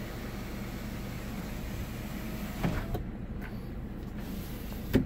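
Power sunroof on a 2014 Toyota RAV4 Limited opening and tilting, a steady low electric motor whir inside the cabin with a couple of soft clunks near the end.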